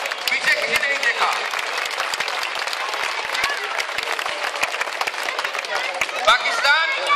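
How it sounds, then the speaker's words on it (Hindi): A crowd at a Pakistan Independence Day gathering in Barcelona claps loudly and continuously, with cheers and voices mixed into the steady applause. "तो जोरदार तालियां, पीछे किसी ने नहीं देखा।"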